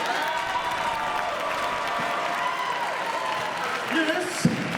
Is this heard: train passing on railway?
no